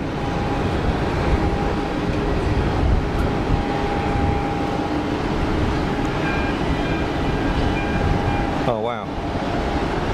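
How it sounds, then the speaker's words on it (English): EasyJet Airbus A320ceo landing at Geneva Airport, a loud continuous roar with a steady tone running through it and a brief swooping whine near the end, as a person speaks a short exclamation. "Precision landing from the EasyJet crew"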